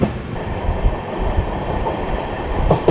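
The 13125 Kolkata-Sairang Express on its first commercial run, passing close at Krishnanagar City Junction with a loud, sustained rail rumble and faint wheel clatter.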